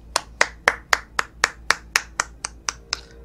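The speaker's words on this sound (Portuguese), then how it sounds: "Eu até aplaudi o cidadão aqui." Steady hand clapping, about eleven crisp claps spaced evenly over three seconds, close and fairly loud with no talk.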